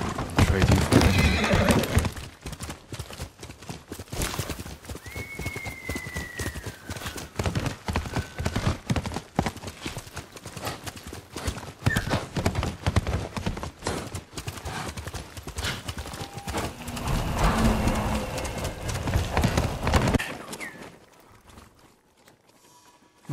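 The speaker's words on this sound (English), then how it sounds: "Horse!" A horse in the video game Ghost of Tsushima neighs and its hooves clip-clop steadily, close and fairly loud, mixed with voices speaking before the sound tapers into quiet at the end.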